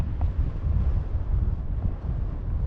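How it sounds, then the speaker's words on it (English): Strong desert wind buffets the microphone in a steady, low rumbling roar that runs throughout, with no voices. "the wind is really strong, so I hope you can hear me"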